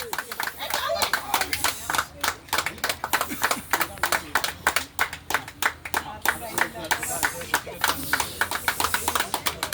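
Loud, rapid clapping from an audience at a Malayalam tug-of-war contest, a dense run of sharp hand claps continuing throughout with voices mixed in.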